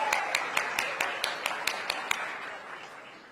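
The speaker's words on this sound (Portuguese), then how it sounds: "E emendaremos esses aplausos para receber agora Leila Pereira, presidente do Palmeiras" Audience applause at a CBF football event, welcoming Palmeiras president Leila Pereira as a Libertadores 2025 finalist. Crisp, steady claps land about four times a second over a diffuse crowd wash, tapering off toward the end.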